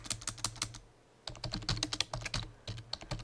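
Rapid keystrokes on a computer keyboard entering a product description for an indoor banner, close and steady with one brief pause partway through, no voices.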